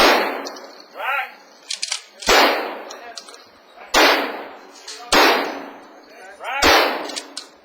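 A pump-action shotgun fires five loud, sharp blasts at a police training range, spaced about a second and a half apart, each followed by a ringing decay and a metallic racking clack between shots.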